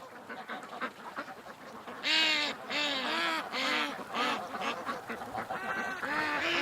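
Maturing ducks quack in a backyard near a lake in October, a close, lively run of repeated raspy calls that thickens into overlapping bursts from several birds partway through.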